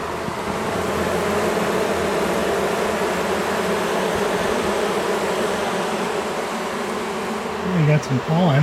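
Honey bees swarm during a hive cutout from a wall, a dense, steady buzz filling the whole clip up close, with a bit of handling noise near the end.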